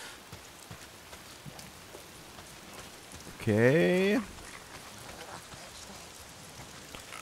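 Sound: rain falling in video game Days Gone

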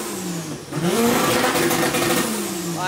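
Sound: car engine revving while warming up

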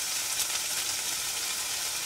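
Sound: butter melting and sizzling in a pan

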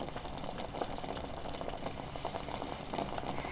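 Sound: vegetable spread bubbling while cooking in pot

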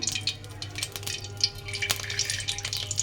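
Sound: refined oil poured into a hot pan for frying

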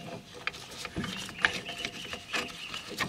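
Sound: tool retracting Audi/VW rear brake caliper piston

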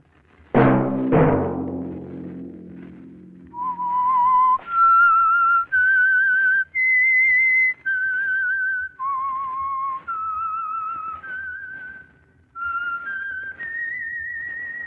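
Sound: whistled theme signal of The Whistler radio show

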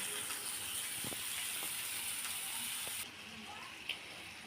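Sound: prawns being sautéed in a pan

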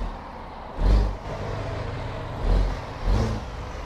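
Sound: Kenworth K-100E truck engine in American Truck Simulator, video game

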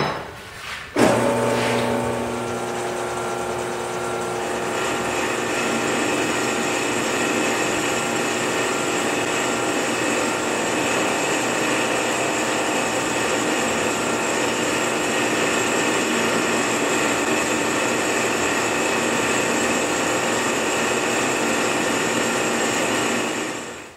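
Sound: lathe turning a recess in a chuck back plate

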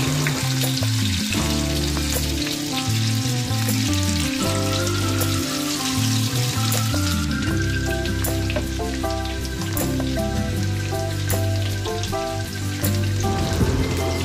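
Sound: chopped onion frying in oil

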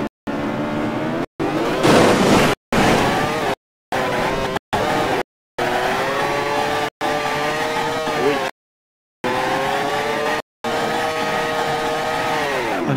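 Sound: Mazda MX-5 exhaust in BeamNG.drive video game

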